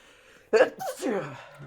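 A single sharp sneeze bursts out close by, followed right after by a brief spoken reply over quiet background.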